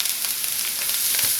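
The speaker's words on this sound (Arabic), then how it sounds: "اول ما احس انه ابتدى يتحمر احط الثوم على طول" Garlic dropped into chicken livers frying in hot oil, giving a loud, dense, steady sizzle that fills the whole short moment, close up, with no talking.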